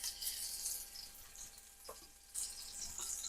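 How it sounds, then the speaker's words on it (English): Pork chops searing in a preheated hot skillet, a faint steady sizzling hiss that swells and fades, with a few soft clinks and no talking. "So now we're going to go put our pork chops in the hot skillet."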